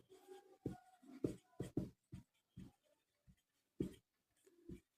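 A pen writing out a Class 10 math solution on paper, in soft, close scratchy strokes arriving in short irregular bursts with quiet gaps between them, no voice present.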